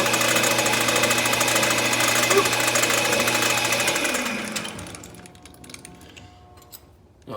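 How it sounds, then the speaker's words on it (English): Metal lathe chamfering the back edge of a copper bead, a steady loud machine hum with a constant low tone for about four seconds, then the cutting noise drops away as the machine winds down. "all I'm going to do with this one is I'm going to chamfer the front, chamfer the back"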